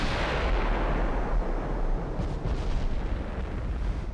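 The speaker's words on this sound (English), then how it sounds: "oh, we just got an ammo detonation" Warship ammunition detonation in Ultimate Admiral: Dreadnoughts: a heavy rumbling blast that fades into a long, rolling boom with scattered crackles, loud and without voices.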